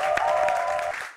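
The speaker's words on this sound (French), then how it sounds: "On va l'applaudir bien fort également." Continuous applause from a TV show audience fills the clip, a dense steady patter with a sustained tone beneath it, easing slightly at the end.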